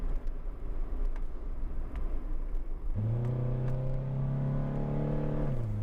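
An automatic third-generation Honda Integra drives with a rough, broad road rumble, then settles into a steady engine hum as it picks up speed, heard from inside the cabin with no talking.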